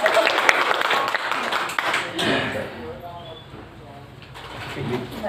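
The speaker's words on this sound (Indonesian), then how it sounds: "Tepuk tangan dulu." An audience breaks into applause at a morning gathering, a burst of clapping mixed with talk that fades after a couple of seconds while voices carry on, then picks up faintly again near the end.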